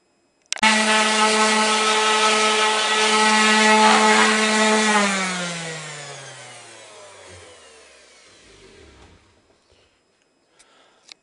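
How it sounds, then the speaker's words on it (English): A power sander works across a routed wood sign with a steady, close whine that winds down and fades to silence, followed by a few faint knocks. "Again, leave your sander flat."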